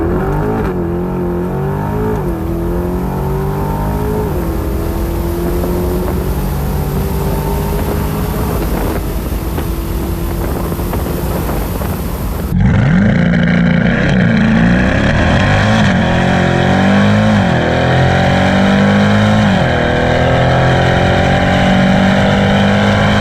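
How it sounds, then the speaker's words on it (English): A C8 Corvette pulls hard through a quarter-mile run, its engine roaring loud and steady as it climbs through the revs, with a sharp shift partway and the pitch rising again afterward. "I'm really kind of curious to see what the car sounds like outside of the car."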